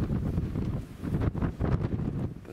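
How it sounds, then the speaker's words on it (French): Strong wind buffets the microphone outdoors on an exposed spot near a forgotten monastery, roaring in loud gusty surges with rustling, no voices heard. "on est en plein vent, là, par contre, Julien, faut pas qu'on reste là"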